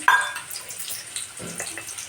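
Water pours into a cooking pot holding chillies and salt, set to boil for making dough: a short hissing, gushing flow with a brief louder splash at the start and softer trickling after.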